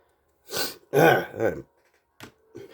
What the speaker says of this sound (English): I just got a random coughing fit out of nowhere.